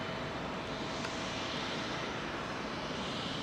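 An airliner's jet engines roar at Heathrow during a go-around, a steady, dense broadband thrust noise held at constant loudness throughout.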